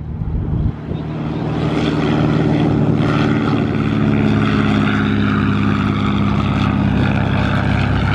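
A STOL propeller airplane at a swamp STOL fly-in event, its engine droning loud and close as it passes, holding a steady roar after a brief quieter start, with strong wind in the background.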